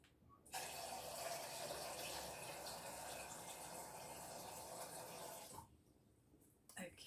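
Boiling water from a kettle pours steadily into a pan of spaghetti bolognese in a home kitchen, a continuous soft hissing splash lasting about five seconds before stopping.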